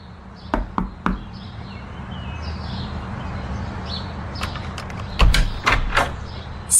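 Three sharp knocks on an apartment door, then a quick cluster of louder raps a few seconds later, heard close over a steady low background hum.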